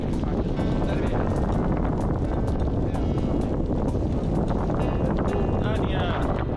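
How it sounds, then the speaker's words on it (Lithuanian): Strong gusty wind of up to 16 metres per second buffets a cyclist riding in the rain in Denmark, a loud constant roaring rumble with repeated sharp gust thumps throughout. "Jo vėjo gūsiai iki 16 metrų per sekundę."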